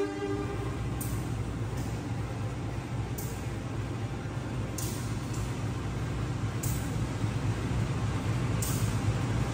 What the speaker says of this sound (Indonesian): Yang baru saja masuk itu adalah kereta api Senja Utama Yogyakarta dari stasiun Yogyakarta tujuan Pasar Senen